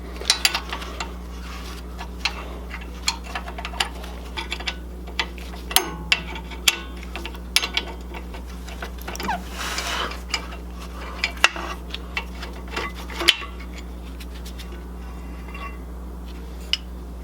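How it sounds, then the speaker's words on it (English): A ratchet works on the 18mm brake caliper bracket bolts of a 2006–2018 Jeep Wrangler JK's rear brakes, making scattered sharp metallic clicks and clanks over a steady low hum, close by, with no talk. "the caliper bracket has two bolts that we're going to need to remove"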